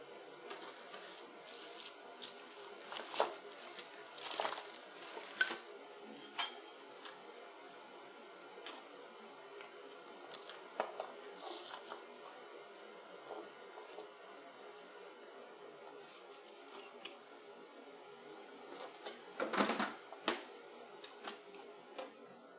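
Metal sockets clink and rattle faintly while someone rummages for a 10 socket during a turbo Miata engine build, with scattered light ticks and taps close by against a quiet background.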